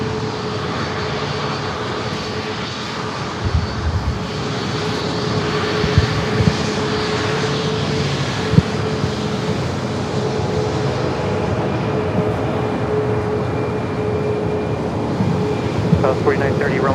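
A Boeing 737-900ER airliner taxis at San Diego airport, giving off a steady, loud engine whine and rumble that lasts the whole time, with faint tower radio chatter underneath.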